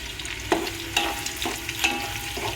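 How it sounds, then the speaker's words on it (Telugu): Cinnamon, cloves and cardamom frying in hot oil for pulav, a steady close sizzle with a few sharp scraping stir strokes, alone without talk. "చూడండి, ఆయిల్ వేడెక్కింది. చెక్క లవంగాయలు యాలుక్కాయలు వేసేసాను."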